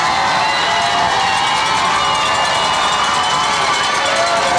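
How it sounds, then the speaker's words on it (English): Crowd at a high school football game roaring steadily with noisemakers rattling and buzzing through the din, a dense, continuous wall of cheering and shouting from start to finish. "here come the Noisemakers again"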